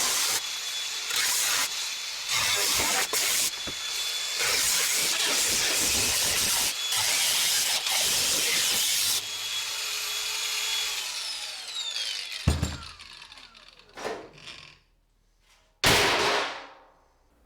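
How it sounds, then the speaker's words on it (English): A power tool cutting the rusty front wing off a Mk1 Ford Fiesta, loud harsh grinding and whining bursts that stop and start, then a few shorter cuts trailing into quiet. "we can start now to chop that wing off"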